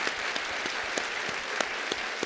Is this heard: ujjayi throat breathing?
no